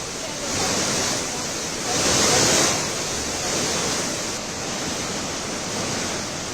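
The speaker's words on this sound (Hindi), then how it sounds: "आज तमसा नदी ने भी काफ़ी अपना रूप बढ़ाया है" Swollen Tamsa river in Dehradun rushing after heavy rain, a steady broad roar of fast water with slight surges, continuous and fairly close, no voices.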